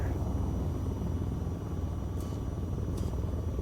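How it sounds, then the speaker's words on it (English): A rotor aircraft in VTOL VR hums and rumbles steadily as it lifts off, a continuous engine drone filling the whole clip with no voices. "There's just that aircraft taking off right now."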